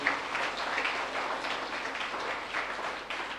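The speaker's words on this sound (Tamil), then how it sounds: "எனவே அவர்கள் ஒவ்வொருவரையும் சிறப்பாக வருக வருக என்று நாம் கைத்தட்டி நாம் வரவேற்போம்." A church congregation at the 182nd annual feast of St. Ignatius shrine in Sathampatti applauds to welcome guests, a soft continuous patter of many hands, fairly distant and steady.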